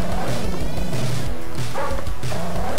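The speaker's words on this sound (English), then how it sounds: "Oh no, doggies!" Dogs barking in the arcade game N.A.R.C., loud synthesized yips and bow-wows repeating in quick bursts over busy game sound effects.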